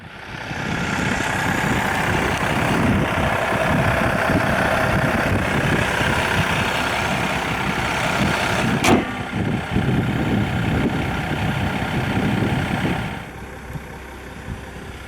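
A 2016 Jeep Grand Cherokee Summit with the 3.0-litre V6 CRD turbodiesel idles close by with a steady, clattering diesel hum, broken by a sharp click partway through before the engine note softens near the end.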